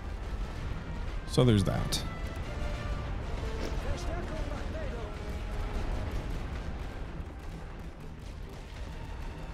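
Artillery fire in the WWI strategy game The Great War: Western Front: one sharp, loud blast, then a steady rumbling din of guns behind someone talking.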